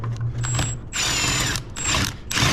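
Rear bolt on the convertible top mechanism of a 2013 Porsche Boxster (981) being driven in with a power tool, loud close whirring bursts with a ratcheting rattle, repeated in several short runs.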